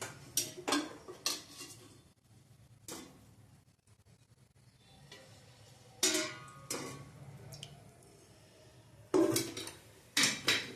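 A metal kadai clanks onto a gas stove and oil goes in while a brinjal curry is started, with sharp scattered metallic knocks and scrapes between quieter stretches of faint background.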